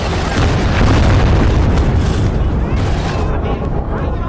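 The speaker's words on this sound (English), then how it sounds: "Achtung, feindliches Geschütz!" Enemy artillery shells explode in the World War II game Gates of Hell, a heavy booming blast with rumbling low end and debris noise that fades over a few seconds, loud and close.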